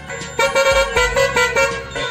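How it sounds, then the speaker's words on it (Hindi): A Bajrang pressure horn on a vehicle sounds in a rapid series of short, loud toots, a pulsing musical honk repeated about a dozen times close by. "चेंज करो हॉर्न,"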